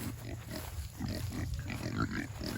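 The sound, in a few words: Kunekune pig grunting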